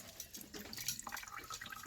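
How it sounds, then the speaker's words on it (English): Apple cider vinegar being strained into 20-litre buckets, a faint close trickle and patter of liquid with small irregular drips, quiet and without talk. "So we're just straining it out into these 20-litre buckets"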